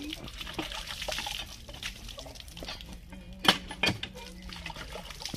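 A plate is rinsed outdoors with water, making quiet, uneven trickling and dribbling with a couple of sharper splashes near the end, under soft background voices.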